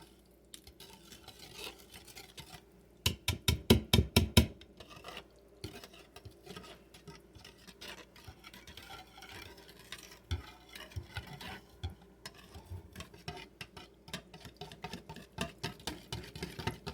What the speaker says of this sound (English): We're going to start off slow with this whisker. I'm going to just whisk it.